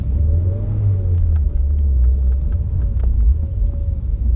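A Mazda MX5 races up the Wiscombe Park hillclimb, its engine a loud, close, low rumble that holds steady from start to finish, with no talk.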